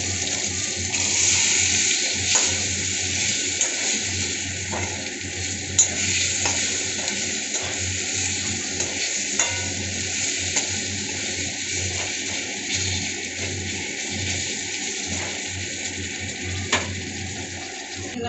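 Green chili and tomato cook with cumin, coriander, turmeric, chili powder and garam masala in a pan, producing a steady, close sizzle with faint periodic scraping and ticking from stirring.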